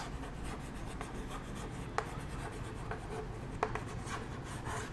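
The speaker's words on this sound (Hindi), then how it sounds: "हाँ मैं लिख देता हूँ" Numbers are written by hand during a maths lesson on divisibility rules, a faint continuous scratching with a few light taps under steady background hiss.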